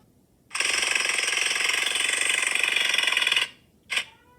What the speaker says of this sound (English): They are using a jackhammer. It makes a loud banging